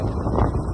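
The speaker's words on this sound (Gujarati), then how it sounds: "પવન છે એટલે બહુ સંભળાતું તો નહીં હોય." Wind buffets the microphone outdoors on a road in Jetpur, a loud, steady, low rumbling roar for just under a second.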